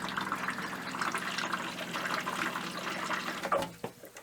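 An RV toilet flushing water mixed with pink antifreeze gives a loud, steady gurgling rush of water that stops abruptly near the end, followed by a few drips and clunks.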